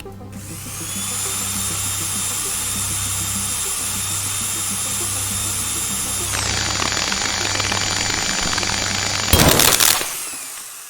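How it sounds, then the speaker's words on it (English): A drill in the video game Stories Untold runs as a steady, loud mechanical whine against a surface. Its pitch drops partway through, then a harsh grinding burst comes near the end before it stops. "So now we're going to use the drill."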